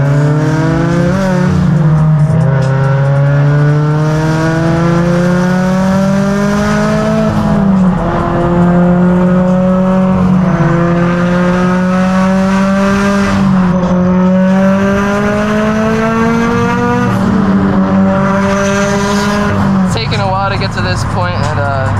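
Stock Toyota 86 fitted with a Tomei exhaust drives past, the engine note droning and rising through repeated gear pulls, loud and continuous throughout.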